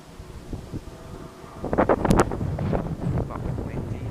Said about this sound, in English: Fucking wind, Jesus Christ, it's cold out here.